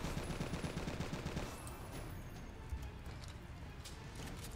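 Machine gun fire against zombies in the video game Left to Survive: a dense, steady stream of rapid gunshots that dominates the sound and eases slightly after the first second and a half.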